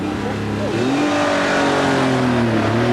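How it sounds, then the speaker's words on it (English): Porsche 911 Carrera 4 with a 3.6-litre engine accelerating hard on a demonstration run, a loud, close engine note rising and falling through the revs. "demonstration runs, the very latest 911 from Porsche, the Carrera 4"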